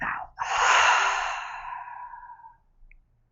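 A deep breath is pushed out through an open mouth, a long breathy exhale close to the listener that begins loud and fades away over roughly two seconds, with no talking.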